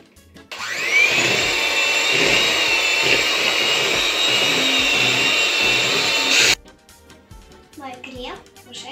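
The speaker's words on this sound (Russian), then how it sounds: "Добавляем сахарную пудру. И взбиваем на маленькой скорости." An electric mixer whips cream with powdered sugar at low speed, making a steady whirring motor drone that starts abruptly, holds for about six seconds and then stops, followed by light clinks.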